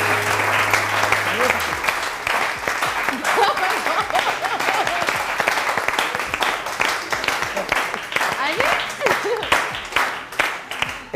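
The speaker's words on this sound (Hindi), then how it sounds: "इस बात पे सबसे ज़्यादा तालियां मैं बजा रहा हूँ" A studio audience on a TV morning show breaks into sustained applause, loud, dense clapping with crisp individual claps that continues throughout, while a voice is briefly heard early on.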